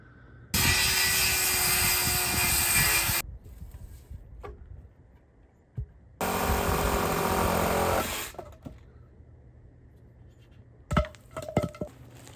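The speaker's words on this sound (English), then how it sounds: "So now I am ready to cut all these posts." Two loud, close bursts of a power saw cutting wooden posts for a treehouse, each lasting about three seconds, separated by quiet pauses, with light clunks and knocks of handling the wood between and after the cuts.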